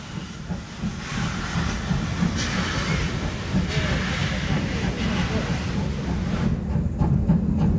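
A Great Western pannier tank steam locomotive runs with a steady, continuous hiss of steam and rumbling wheel noise throughout, moderately loud and unbroken.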